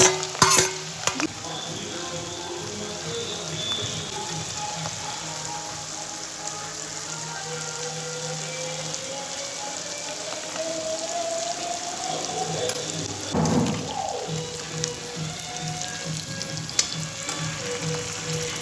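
Onions sizzling in a hot pan while being stirred for a party chicken dish, a steady close frying hiss throughout with occasional scraping and stirring clatter, no voices.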